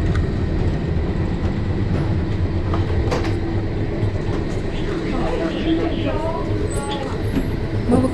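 Steady rumble and rattle of a vintage tram in motion in Dallas, Texas, with faint squeals and clicks over a constant low drone throughout.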